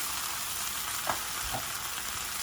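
Peppers and onions frying in a pan, a steady broadband sizzle with a couple of brief louder bursts as the vegetables are tossed, close and alone.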